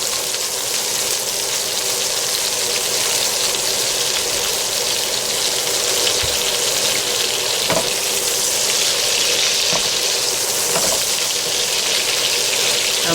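Hamburgers fry in oil in a pan, giving a steady, close, hissing sizzle with occasional small pops and no talking.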